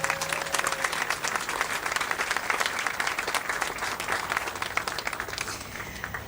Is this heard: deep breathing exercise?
no